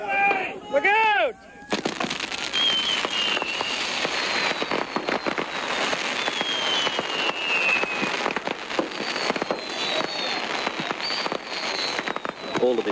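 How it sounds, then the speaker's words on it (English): Fireworks burst in a rapid crackling barrage at a desert blast event, dense popping and booming explosions continuing for several seconds after a brief opening of whistling rockets. "he strapped piles of fireworks to his person and then lit himself on fire"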